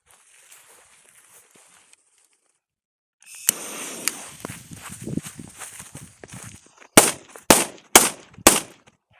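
KCE204 Achtung firecrackers: a rising hiss and a scatter of crackling pops, then four sharp, loud bangs in quick succession, each ringing briefly, close by and with no talk.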